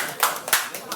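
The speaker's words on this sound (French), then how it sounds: "Médéric, on peut applaudir." A few people clap in a TV studio kitchen in Réunion to welcome Médéric at a Citroën car presentation, sparse claps in short bursts over about a second, close by, with voices talking underneath.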